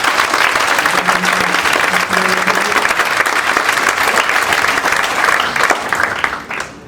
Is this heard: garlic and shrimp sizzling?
no